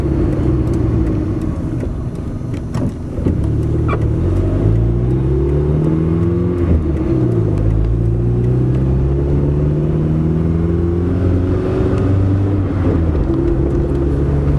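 A vehicle engine held at half throttle while pulling up to about 20 miles an hour, giving a loud, steady close rumble with rising and falling whirring pitch and no talking.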